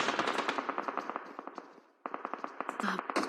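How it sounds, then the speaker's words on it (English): Rapid bursts of automatic gunfire crackle in a PUBG Mobile match at the SEA Games team event, steady rhythmic shots with a brief lull midway before a denser volley resumes, loud and close under a commentator's voice. "But here they are, under gunfire right now."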